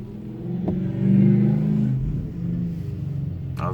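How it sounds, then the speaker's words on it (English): A Pontiac Trans Am passes nearby, its engine rumbling low and swelling to a peak as it goes by before fading back into steady background road noise. "That was a Trans Am."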